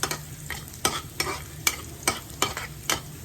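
Garlic and onion sauté in a pan with a steady soft sizzle, broken by regular scraping stirs of a spatula about twice a second, close and fairly quiet with no talking.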